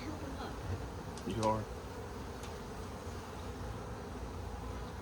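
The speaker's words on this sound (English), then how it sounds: "I have a lot of bees on me." Honey bees drone continuously around an open hive during a spring queen split, a low steady hum with one closer swell of buzzing while a person speaks briefly.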